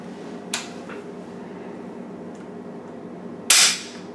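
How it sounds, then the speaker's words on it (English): Type 99 Arisaka rifle being dry-fired, a faint click followed by a sharp, loud metallic snap of the heavy trigger releasing the firing pin, alone against quiet room tone. "God, that's a heavy trigger on this one."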